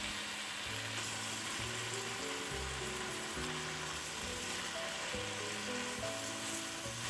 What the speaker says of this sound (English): Quickly toss the sweet potato leaves around your wok.